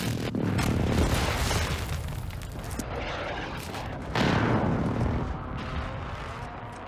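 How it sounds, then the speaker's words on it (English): Hostile airstrike explosions rumble through a Call of Duty match, a dense, loud barrage of overlapping booms and blasts that carries on almost without a break, with a fresh heavy surge partway through. "Hostile airstrike near your location."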